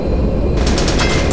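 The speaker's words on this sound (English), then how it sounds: "that's racers shooting other racers down" Rapid gunfire from racers shooting each other in a combat racing video game, a dense burst of loud automatic shots starting abruptly partway through and continuing over a constant rumbling engine and game noise.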